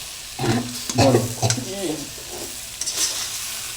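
Taro pieces in a pan of cooking vegetarian curry being cut with a metal spatula, a few sharp scraping clinks over a soft sizzle, with faint talk in the background.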